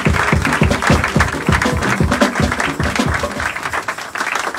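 Church congregation at a Sunday service applauding: dense rhythmic clapping fills the space for several seconds, loud and close, with a few voices mixed into it before it thins toward the end.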